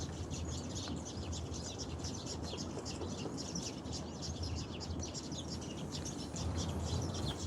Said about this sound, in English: The birds are chirping in that tree over there.